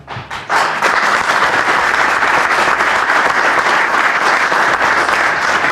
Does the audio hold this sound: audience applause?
yes